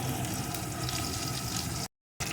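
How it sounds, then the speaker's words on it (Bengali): Crushed garlic cloves sizzling with chopped onion in a pan, a dense, loud, continuous frying crackle that cuts out abruptly near the end and then briefly resumes. "এখন দিয়ে দেবো কয়েক কোয়া থেতো করা রসুন। রসুনটা একটু নাড়িয়ে নিয়ে"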